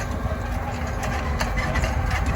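A T5 115 tractor engine idles nearby, a steady rumbling with a constant low drone and no pauses.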